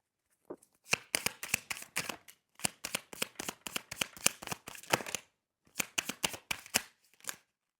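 Tarot cards being shuffled by hand up close, a rapid run of crisp flapping riffles and snaps in several bursts separated by brief pauses, loud and alone in a quiet room.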